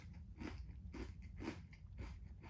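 A Nature Valley white cheddar bar, crunchy and full of seeds, being bitten and chewed close to the mic: four soft, evenly spaced crunches, faint and with no talking.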